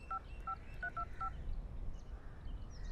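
A mobile phone number is keyed in: a quick series of about six short dial-tone beeps in uneven rhythm, followed by quiet background hiss.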